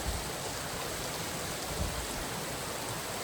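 A river stream flows with a steady, dense broadband rush of water, continuous and fairly close, with no voices.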